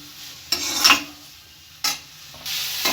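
Vegetables frying in oil with a quarter teaspoon of turmeric powder while a soup is being made, heard as soft sizzling with a few brief stirring scrapes and clinks, close and fairly quiet, no talk.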